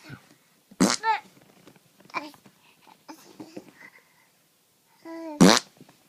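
A mouth imitates farting with a couple of short, sputtering raspberries separated by quiet stretches and soft babbling vocal sounds nearby.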